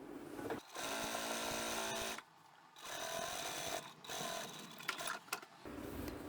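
A sewing machine stitches through layered outer and lining fabric for a large trapezoid utility bag, running in several short bursts with brief pauses between them, close and clear.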